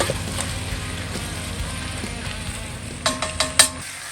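A steady sizzle of onion and garlic frying in a pan, with faint scraping and a few sharper clinks near the end.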